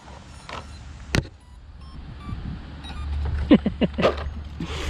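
A cheap ready-to-run RC car running on AA batteries is switched on. A sharp click from the switch is followed by a few brief, quiet motor whirs and faint rustling close by.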